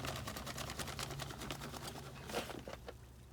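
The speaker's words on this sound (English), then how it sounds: "sifting in the dry plaster into the water." Dry plaster is sifted into a container of water, giving a soft, continuous granular pattering that stays faint and close, easing off toward the end.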